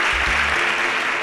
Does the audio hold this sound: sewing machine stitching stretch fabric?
no